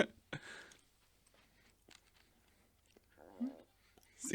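Someone crunching and chewing a surprise candy up close, with a few short crisp bursts of mouth noise separated by quiet gaps.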